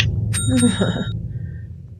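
A single bright bell rings twice in quick succession, then its tone fades away.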